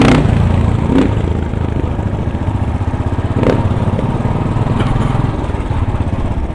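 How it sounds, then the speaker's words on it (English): A loud, close motorcycle engine rumbles and revs steadily as it passes on a New York City street, with a rough throbbing tone throughout. "The motorcycle behind me has got that aggressiveness that, there he goes"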